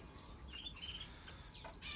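Small birds in an outdoor aviary in mid-spring give faint, scattered chirps and tweets over a low, steady background hum.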